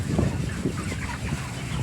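A crowd of 32-day-old broiler chickens clucks in a multi-level Malaysian poultry farm shed, a dense, continuous murmur of soft clucks from many birds close by.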